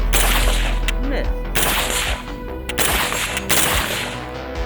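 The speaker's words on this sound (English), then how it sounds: "Oh, we had a slam fire. Did you hear that?" A Daewoo K2 rifle slam-fires outdoors, giving several loud, sharp gunshot bursts close by. Voices can be heard between the shots.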